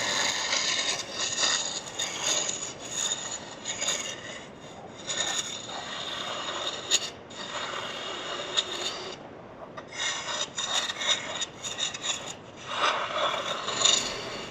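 Wood turning on a lathe with Easy Wood tools at a woodturners club meeting, a continuous raspy scraping that swells and breaks off in short pauses, close and fairly loud with no talking.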